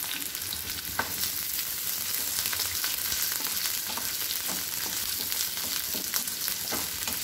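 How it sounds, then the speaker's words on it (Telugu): Cubed onion, capsicum and green chili pieces for egg Manchurian fry in a pan with a steady, dense sizzle and scattered stirring scrapes, close and even throughout with no speech. "పచ్చిమిర్చి ముక్కలు అలాగే క్యూబ్స్ లాగా కట్ చేసుకున్న ఈ ఉల్లిపాయ ముక్కలు క్యాప్సికం ముక్కల్ని కూడా వేసుకొని అన్ని కాసేపు ఫ్రై చేసుకోవాలి"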